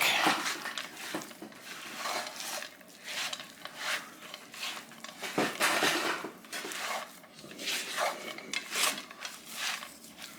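Chocolate chip cookie dough being stirred in a bowl for a cast iron skillet recipe: steady scraping and clinking of a utensil against the bowl, with quicker rhythmic strokes in the second half, close and moderately loud.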